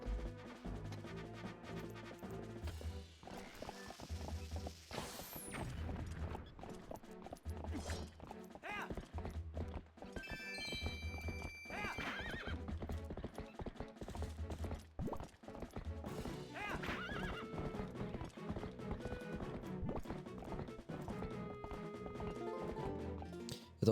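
A horse gallops with rhythmic clip-clop hoofbeats in Zelda Twilight Princess, with occasional neighs, metallic game effects and a continuous musical score running underneath throughout.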